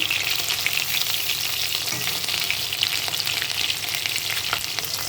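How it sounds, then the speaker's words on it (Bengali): Small chela fish fry in hot oil in a wok, giving a steady, loud, dense sizzle that crackles without pause from start to finish, with no voices. "মাছগুলো লাল লাল করে ভেজে নিলাম।"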